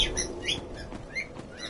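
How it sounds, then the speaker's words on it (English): Pet birds chirping and squawking indoors, several short bright tweets repeating in quick succession at a modest level over soft background noise. "My birds are beeping"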